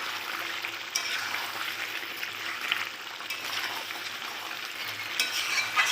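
Chicken being kosha-style stir-fried with spices in a pan sizzles and crackles steadily, with occasional scraping stirs close by and no talk over it.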